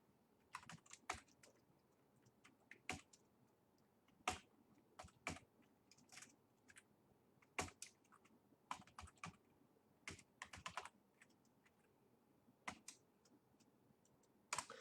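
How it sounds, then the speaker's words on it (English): Computer keyboard typing in quick bursts of clicky keystrokes separated by short pauses, close and fairly quiet, with no voices. "just let me type first,"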